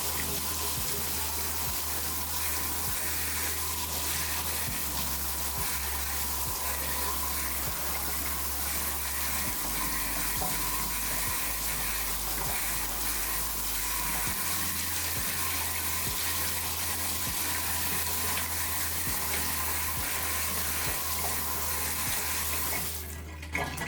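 Tap water running steadily to pre-soak a cloth mousepad in a sink, a loud continuous splashing rush that carries on almost the whole time and then cuts off at the end.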